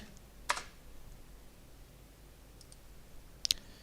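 Keys on a computer keyboard clicking in a few brief, faint, separate taps with quiet gaps between them in a still room.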